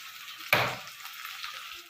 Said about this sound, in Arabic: تمام، نحمر البصل